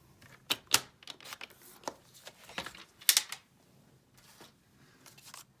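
Cardstock being cut to size for a handmade card makes a series of sharp, irregular clicks and snips, close and crisp, with quiet gaps between them.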